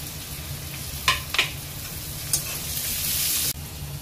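Chopped garlic and ginger sizzle with lightly fried onions in a pan for Kerala meen moilee, a steady close frying hiss broken by a few sharp stirring scrapes and ending abruptly.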